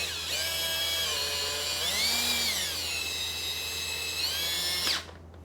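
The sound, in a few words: power drill raising motorcycle lift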